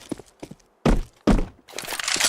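An incendiary grenade thrown in the Counter-Strike video game, two loud close thuds in quick succession with lighter clicks and footsteps around them, ending in a hissing burst.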